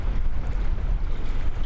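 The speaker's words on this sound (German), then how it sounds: "Das hört ihr sicherlich am Pfeifen vom Wind." Wind gusts roar and buffet outdoors by the water during an angling outing, a loud, continuous rumble across the clip with no talking.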